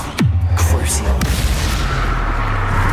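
Bombarda spell explosion in the video game Hogwarts Legacy, a loud booming blast with a falling rumble, a second impact shortly after and a sustained low roar beneath.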